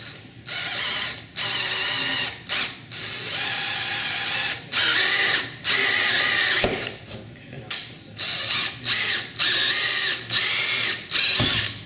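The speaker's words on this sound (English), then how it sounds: "go ahead and drill out those holes on the drive rail" A power drill whines as it drills holes in a metal drive rail in repeated bursts, starting and stopping over and over, loud and close with short gaps between runs.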